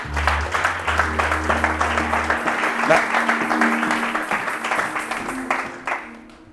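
A church congregation applauds to acclaim the Lord, with loud, sustained rhythmic clapping from many hands that fills the room and fades out at the end, a low hum underneath.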